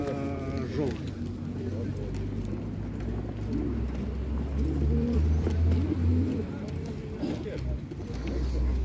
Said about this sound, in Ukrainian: Цікавий такі ці голуби.